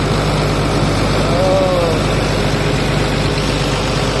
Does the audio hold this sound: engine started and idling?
yes